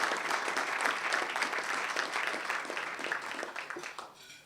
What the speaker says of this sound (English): Bill, why don't you come up here, a round of applause.